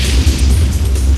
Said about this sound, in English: the colossal explosion at 10:50 p.m. rips the end off it and opens up a new escape route